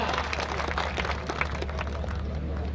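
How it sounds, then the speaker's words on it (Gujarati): Applause from a crowd at a Diwali gathering in a village: dense, continuous clapping from many people, moderately loud, with a low hum beneath. "તાળીઓના ગડગડાટ પાડો ભલા માણસ, તાળીઓના ગડગડાટ"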